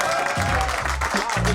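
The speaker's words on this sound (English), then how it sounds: "Give it up for Malik B" An audience applauds a comedian being introduced at a stand-up comedy show, steady dense clapping filling the room with faint crowd noise beneath.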